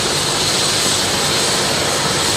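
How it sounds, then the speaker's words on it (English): A Lifeline medical helicopter runs loudly and steadily nearby, its engine and rotor roar filling the air without pause and with no talk over it. "They will load the patient on their cot, take them back to the helicopter, load them up, and they'll be gone."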